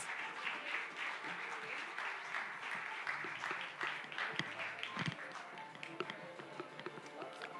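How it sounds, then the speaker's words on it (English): Applause at a World Tourism Day event as Malaysia's Minister of Tourism, Arts and Culture is called to the stage, a sustained round of clapping with brief murmurs and footsteps beneath. "Please give him a big round of applause."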